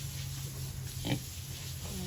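Pig on a farm in Jamaica, a single short grunt at close range over a steady low background hum, otherwise quiet.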